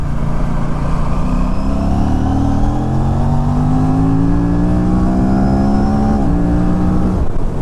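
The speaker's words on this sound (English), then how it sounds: "You just twist the throttle and it goes." KTM RS 457 motorcycle accelerating hard as the throttle is twisted, a loud, steady engine roar climbing in pitch through the gears, with a brief shift near the end before it keeps pulling.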